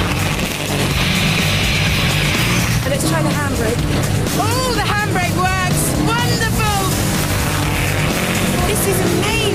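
A 1996 Subaru World Rally Championship car is driven for a lap, its engine droning and rumbling continuously from inside the cabin while a person talks excitedly over it.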